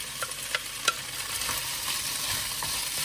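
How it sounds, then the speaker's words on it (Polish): Chopped onion and carrot sizzling in a frying pan, a close steady crackle with a few soft scrapes of stirring near the start. "I to wszystko będę teraz podsmażał."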